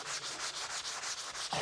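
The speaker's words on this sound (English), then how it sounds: "I've got my sanding sponge here. And I'm essentially just going around and sanding walls." A handheld sanding sponge rubs across a wall in quick back-and-forth strokes, making a steady rhythmic scratchy swish of about eight close, even passes with no talking.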